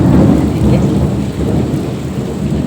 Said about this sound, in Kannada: ಗುಡುಗುರುಡಿ ಹಿಂಗೆ ಕೇಳಿಸ್ತಾ ಇದೆ